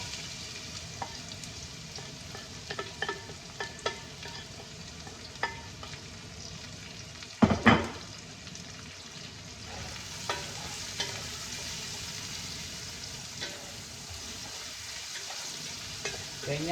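Onion and garlic sizzle steadily in a hot pan while being stirred for palabok, with a continuous frying hiss, occasional utensil scrapes and a sharp clatter midway.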